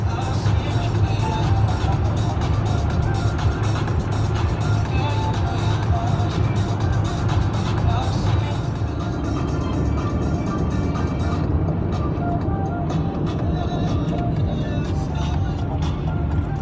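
A car driving along a road at night, heard as a loud, continuous rumble of road and engine noise from inside the cabin.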